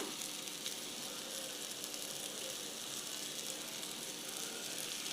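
Egg and chopped coriander frying with mashed eggplant in oil in a pan for egg baigan bharta, giving a steady, soft, even sizzle with no voices throughout.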